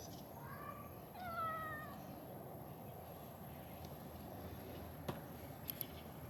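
A cat gives two drawn-out meows early on over a quiet, hissy background, followed by a few faint taps.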